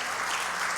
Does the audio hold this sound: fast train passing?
no